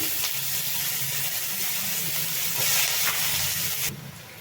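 Sliced onions sizzling in hot oil with panch phoron and green chillies, a steady close crackling hiss with a few soft pops that drops off sharply near the end.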